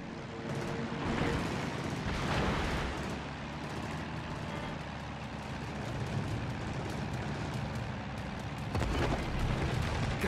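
Naval gunfire in World of Warships, with a carrier-based Shokaku battle around it: heavy booming blasts and rumbling explosions over a dense, continuous roar of engine and sea noise, loud throughout.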